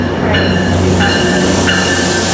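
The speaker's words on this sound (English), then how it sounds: "This is a Metrolink train." A Metrolink commuter train at Fullerton station makes a loud, close, continuous rumble with faint metallic squealing tones rising and falling over it.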